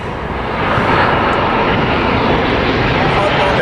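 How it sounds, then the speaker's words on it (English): Loud, steady jet roar from a Southwest Boeing 737 airliner flying in to land near San Diego, a broad continuous rumble swelling slightly and holding close overhead. "another hot dog on a stick Southwest 737 coming in"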